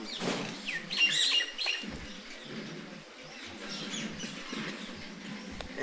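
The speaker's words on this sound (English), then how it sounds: "But just to hear these birds singing in Braj is more auspicious than all Vedic mantras." Birds sing and chirp outdoors in Braj, a holy pilgrimage area, with several high twittering calls clustered early on and scattered thinner tweets continuing throughout at moderate distance, no talk.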